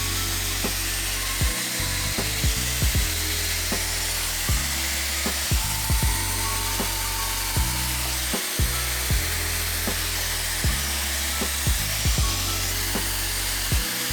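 An ION Airstyler hair styler with its oval brush attachment runs with a steady, loud airflow whir, broken by frequent short knocks and clicks from handling. No one speaks.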